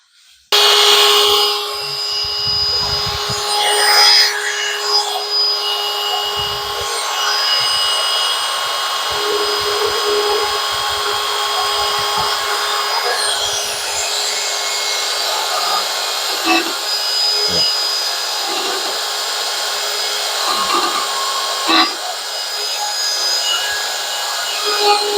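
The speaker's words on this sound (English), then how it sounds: "This is probably the most time-consuming part of the chart is carving into the tick marks and the numbers." A power rotary carving tool whines continuously and loudly while grooves and numbers are cut into a wooden growth chart, with scattered low scraping and rubbing sounds from the wood beneath the sustained high tone.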